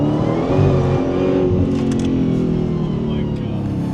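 A 900-horsepower Demon Jeep with a new exhaust roars loudly and close, engine revving hard as the wheels spin, with a slight fall in pitch toward the end.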